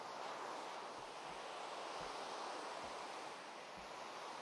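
River water flowing in the video game Minecraft, a steady broad wash of rushing noise with soft low thumps, continuous and fairly even without any talk.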